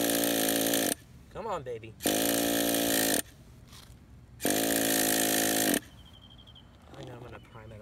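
A Traxxas Nitro Stampede's small nitro engine is cranked with a glow plug attached and nearly catches. Three loud, steady bursts of starter whirring come up close, with short pauses between them where someone speaks.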